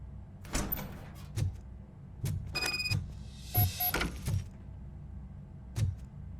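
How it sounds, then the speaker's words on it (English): A door being opened in the video game Robocop Rogue City: a run of sharp mechanical clunks and a sliding, whirring rattle with a few bright metallic tones, spread over several seconds with short gaps. "Now let me get that door open for you."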